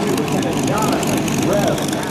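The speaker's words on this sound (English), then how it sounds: "the F-15 Eagles!" An F-15 Eagle fighter jet of the 71st Fighter Squadron at a military airshow, a steady broad engine roar filling the air while an announcer's voice carries over it.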